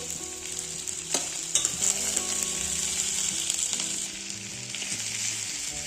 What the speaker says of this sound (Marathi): थोडंसं तेल टाकून कांदे परतून घेऊ याला आपण हलका सोनेरी रंग येईपर्यंत